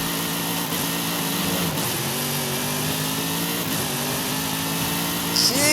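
A C7 Corvette ZR1 in Forza Horizon 5, fitted with a race exhaust, upgraded supercharger and racing gears, holds a loud, steady engine drone with rising and falling revs and a sharp rev climb near the end.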